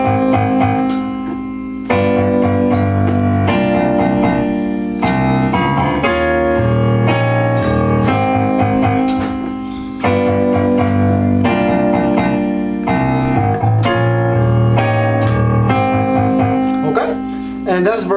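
Piano plays a section of an R&B song slowly, with sustained chords and a steady repeating melodic line filling the clip at a fairly loud, even level, with a brief dip near two seconds.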